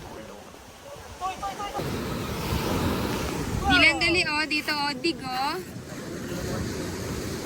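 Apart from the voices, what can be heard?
strong ocean waves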